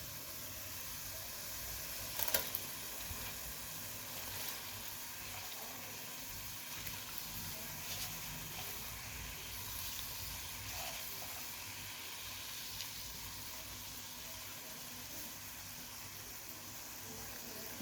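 Soaked moong dal tipped into a hot pan of spices gives a steady, soft hiss and sizzle that runs throughout, with a brief sharper crackle near the start and faint scraping now and then.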